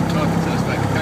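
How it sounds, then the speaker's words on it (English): A small plane taxis out along a runway behind a jet, its engine making a steady, loud droning hum throughout with no breaks. "We are starting the taxi. Taxiing out on the runway, following a jet."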